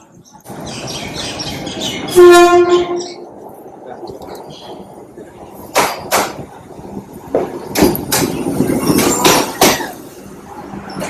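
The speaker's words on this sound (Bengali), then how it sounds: "ওই দেখো বন্দে ভারত, ভিআইপি ট্রেন। ওই দেখো আসছে।" A Vande Bharat train pulls into a station, its horn sounding loudly once, followed by rhythmic clattering and metallic clanks of the wagons nearby, with people talking over it.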